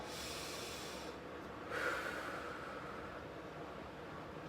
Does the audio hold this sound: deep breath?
yes